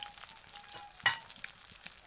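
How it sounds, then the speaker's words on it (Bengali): Singi fish frying in oil until reddish gives a soft continuous sizzle, close but quiet, with one brief sharper crackle near the middle and no talking. "দেখো মাছটা একদম এরকম লাল লাল করে ভাজবে"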